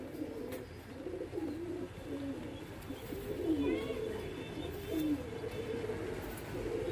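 Soft, low pigeon coos repeat at intervals over a quiet outdoor background, with a few faint higher bird chirps mixed in.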